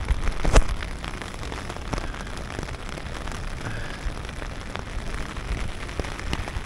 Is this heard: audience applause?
no